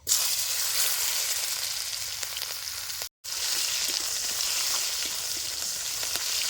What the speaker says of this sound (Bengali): পেঁয়াজ সাদা ভাজা হয়ে গেছে